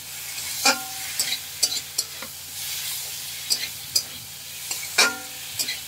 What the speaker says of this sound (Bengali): কষার মধ্যে দিয়ে দিলাম, দিয়ে পরে ভালো করে এইভাবে নাড়তে থাকবো।